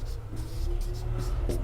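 Pen writing out a handwritten Class 12 NCERT maths differentiation solution, a steady soft scratching of strokes that runs through the short stretch with some faint low background hum.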